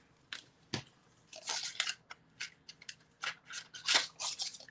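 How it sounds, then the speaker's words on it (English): Scissors trim a jagged edge off a sheet of scrap paper during card making, a close series of crisp snipping and rustling cuts coming in uneven bursts with no talking. "Let me grab my scissors and get that snag off of it."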